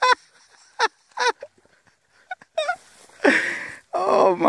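Three ducks give short honking calls in separate bursts while hunting dogs swim after them on the water, with a person's voice briefly heard near the end.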